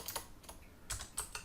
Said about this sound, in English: Hey, me and my typing skills.